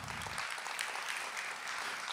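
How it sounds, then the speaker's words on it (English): Church congregation clapping for about two seconds, a steady, dense wash of many hands applauding at once with no voices standing out. "Let's give the Lord a hand clap for that."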